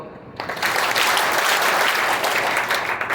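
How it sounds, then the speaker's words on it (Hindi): An audience at a family spiritual practice gathering bursts into loud clapping after a short quiet moment, a full, even round of applause that stays strong before easing slightly at the end. "तो एक बात 3 ताली बजाओ तो।"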